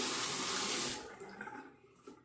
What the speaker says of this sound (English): Again, a pretty quick rinse.